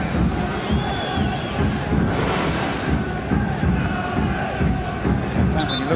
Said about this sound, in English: Ironic cheers from the crowd because the officials finally give them a decision.